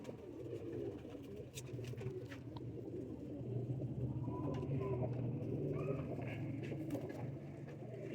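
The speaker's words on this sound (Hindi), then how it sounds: "सब अली वाले कबूतर है ये दोस्तों।" A loft of Ali wale pigeons, mostly hens, keeps up low, continuous cooing that swells slightly in the middle, with a few faint chirps on top.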